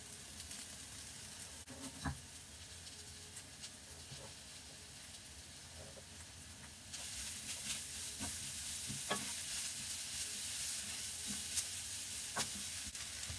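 Chopped green onion sizzles and hisses steadily in a hot pan while being stirred, with soft scraping taps; the frying grows a little louder partway through and continues close and alone.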